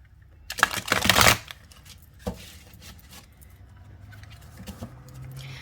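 Angel tarot cards being shuffled by hand, a brisk riffling burst near the start followed by softer sliding and tapping of the deck, close and alone with no talking.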